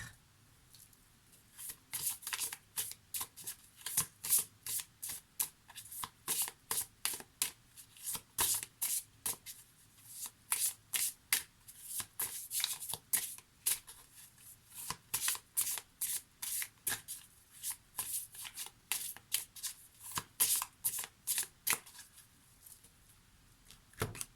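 Tarot cards being shuffled in a steady run of quick riffling bursts that continues for the whole stretch, close and crisp, with no talking over it.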